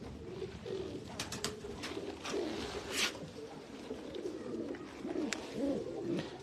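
Repeated soft cooing of a large Teddy pigeon, a breeder bird kept in a loft, with bursts of rolling coos over a steady murmur of other birds close by.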